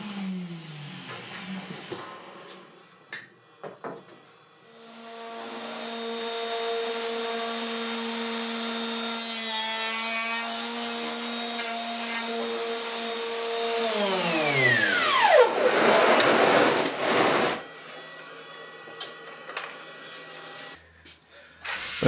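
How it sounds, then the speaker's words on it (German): An angle grinder grinding baked-on brass sheet off a copper-inlay turntable piece, a loud steady whine that holds, then winds down in pitch before a harsh burst of grinding close up. "das angebackene Messingblech wird jetzt weggeflext"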